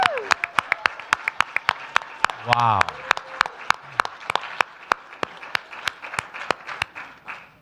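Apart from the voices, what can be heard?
audience applause for conference planner Renee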